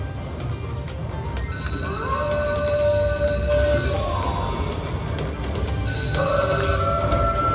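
An electronic slot machine plays a rising, wavering howl-like bonus sound, sustained and loud over the casino's constant background drone.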